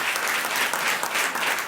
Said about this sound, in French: Est-ce qu'il y a des gens qui voient des chroniques criminelles ici? Par applaudissement.